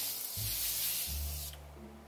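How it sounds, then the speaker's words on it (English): Morphe Mattifying Continuous Setting Spray mists out in a loud, steady hiss lasting about a second and a half, then fades into quiet room sound with no talking. "I'm going to go into the Morphe Mattifying Continuous Setting Spray, and remember, just one pump."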